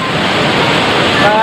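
River rapids rush at the Riam Budi tourist area on the Sungai Raya in Bengkayang, a loud, dense, continuous roar of turbulent water close to the microphone with a voice briefly heard over it.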